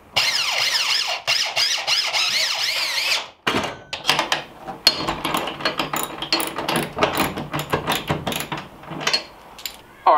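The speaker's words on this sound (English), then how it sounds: "I'm gonna take one of the screws out of the wall that's holding the wood to the wall." A power drill backs a screw out of an enclosed trailer wall, a whining motor followed by a burst of choppy, stuttering bursts as the screw works loose, close and loud.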